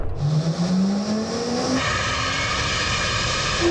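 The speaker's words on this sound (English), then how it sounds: "Dial the fan up. Here comes the fan. Floor the throttle." A new 1,000-horsepower hypercar accelerates at full throttle with its fan running, the engine note climbing steadily, then shifting and rising again, loud and close with no talking.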